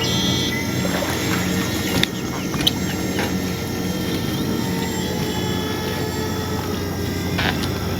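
An Avios Albatros V2 radio-controlled seaplane drones overhead with a steady, continuous motor whine while practicing landings outdoors, with a couple of faint knocks.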